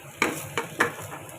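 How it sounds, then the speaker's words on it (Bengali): A kilo of rice frying with reddened onions in a pot, stirred with a spoon: three distinct scraping strokes over a soft background sizzle, close and moderately quiet. "লাড়া দিব, এক হাত দিয়ে লাড়া দিচ্ছি"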